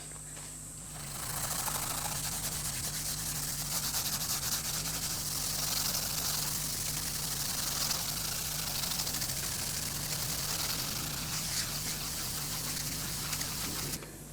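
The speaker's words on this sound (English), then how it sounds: "So this time I'm going to use the grey Scotch-Brite." Grey Scotch-Brite pad scrubbing aluminium clock parts, a steady continuous abrasive rubbing that runs the whole length at even loudness with a faint low hum underneath.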